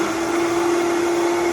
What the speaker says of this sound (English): kale blended.